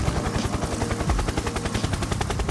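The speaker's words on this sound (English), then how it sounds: "It sounds like a helicopter." Helicopter approaching from the horizon, heard as a steady, loud rhythmic rotor chop with a deep pulsing thump throughout, no talking.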